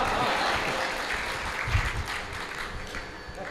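Fairly quiet applause from an audience at a Hindi comedy poetry gathering, a dense, hissy patter of clapping that holds steady for a few seconds.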